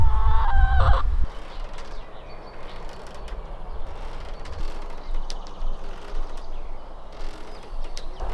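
Clucking chickens close by at a rural cabin stay: a loud burst of calls at first, then softer, steady hen murmurs and outdoor ambience over several seconds.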